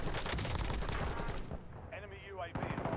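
Rapid bursts of automatic gunfire in Call of Duty Warzone crackle loud and close for over a second, then give way to quieter game sounds and a brief whooshing effect before more noise resumes.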